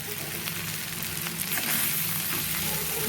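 Sizzling tempering in hot oil with green chillies and peas, a steady dense crackle that swells slightly midway and holds close and continuous without speech.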